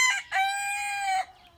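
A rooster on a farm in Alpine, Texas crows loudly and close by, with a short opening note followed by a long, bright, sustained call that cuts off cleanly.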